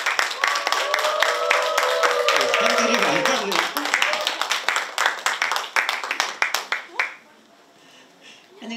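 A seminar audience at Ulsan Methodist Church claps to welcome a church elder to the front. A voice talks over the start, then the applause runs on as sharp, scattered claps that thin out and stop abruptly.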